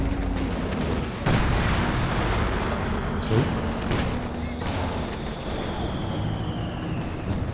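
Anti-tank gun shots in Company of Heroes 2, with dense, loud battlefield gunfire, booms and explosions rolling continuously alongside other combat noise.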